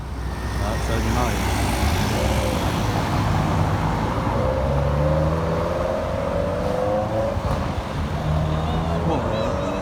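A luxury car on a Paris street starts up and pulls away, its engine rising steadily over nearby traffic rumble while people talk close by.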